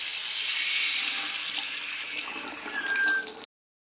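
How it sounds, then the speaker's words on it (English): A hot water faucet in a house runs in a strong, steady hiss, opened to relieve water pressure while a leaking water heater is shut off. The flow continues for three and a half seconds, then stops abruptly. "Relieve the water pressure by turning on any hot water faucet in your house."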